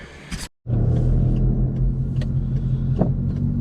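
A Ford FG ute pulls away on the road after a brief cut in the sound, its engine a low, steady rumble heard from inside the cab with faint ticks and creaks over it.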